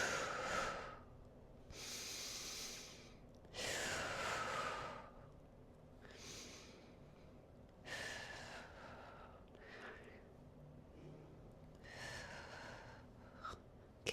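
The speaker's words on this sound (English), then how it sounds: "So big inhale, exhale." Deep, slow breaths during a guided exercise session, each long hissing inhale and exhale repeating in a steady rhythm, close and fairly loud with quiet pauses between, no talking.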